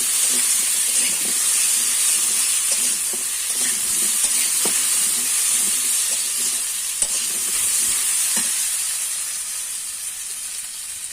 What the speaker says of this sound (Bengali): এটা এখন আমি 1 থেকে 2 মিনিট একটু ভেজে নেব।